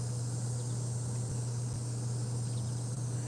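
Crickets chirp in a steady, dense outdoor drone that holds at an even level for the whole stretch, with no voices over it.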